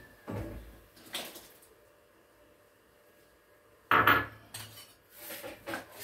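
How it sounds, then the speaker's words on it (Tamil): Lentils going into a pot for Maharashtra-style varan bhaat, with a few metal spoon-and-pot clanks, then a sharper scraping clatter of stirring near the end; close, no talking. "பருப்பை போட்டு ஒரு கிண்டுன்னா நல்லா சூப்பராக இருக்கும்"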